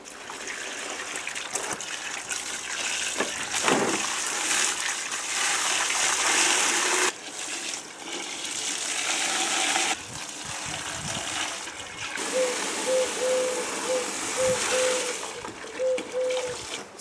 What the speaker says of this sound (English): Now I'm just going to add water.